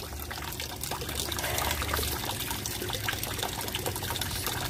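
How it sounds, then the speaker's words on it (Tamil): A small battery-powered sprayer converted from a water can pump sprays water through a nozzle, giving a steady, continuous hissing wash of liquid at close range with a low motor hum beneath. "பக்கத்தில் ஸ்ப்ரேவும் ஆகிட்டுருக்கு"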